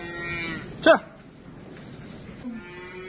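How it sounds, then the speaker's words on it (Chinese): Cattle on a snowy roadside in Heilongjiang give a couple of moos, one loud and nearby and another fainter, while someone speaks briefly. "这路上养了几头牛。"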